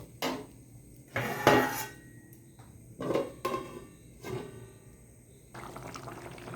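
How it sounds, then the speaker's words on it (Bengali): Curry stirred in a pot, then covered with a lid after water is added: a few distinct metallic clinks and scrapes of utensil and lid against the pot, close and moderately quiet, with pauses between them. "একটু নেড়ে দিয়ে তরকারিটাকে আবার ঢাকা দিয়ে দেব।"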